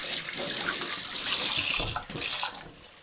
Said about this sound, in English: I need to just rinse my hands.